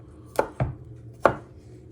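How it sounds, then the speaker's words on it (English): A knife chops garlic on a cutting board in three sharp, close knocks, two in quick succession and then a third after a short pause, with no talk. "Not too small, but you just want to give it one final chop."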